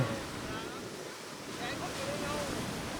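Gentle sea waves at Laem Samila beach wash in a steady hiss of surf, with wind buffeting the microphone throughout, and faint voices sit low in the mix.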